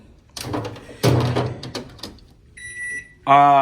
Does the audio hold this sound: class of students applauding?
no